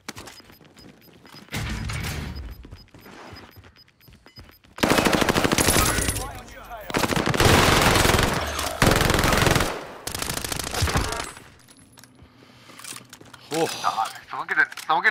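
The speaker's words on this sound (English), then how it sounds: "this hipfire PPSH is kind of nasty" Hip-fired PPSh submachine gun bursts in a multiplayer video game, loud rapid automatic fire in several sustained bursts separated by quieter gaps, with players talking over parts of the action.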